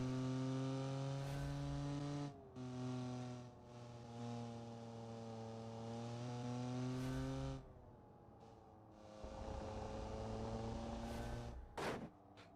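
Inline-three car engine in the BeamNG driving game screams at high revs near 12,000 RPM, a steady buzzing harmonic drone with brief lifts and a shift-like dip, then a rougher burst before a short cut near the end.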